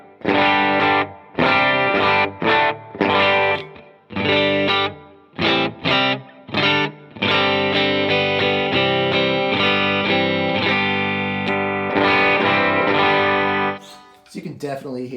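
Electric guitar played through a Strymon Iridium amp modeler on its chime setting with no pedals, loud strummed chords with slight breakup and room reverb, choppy stabs giving way to sustained ringing chords.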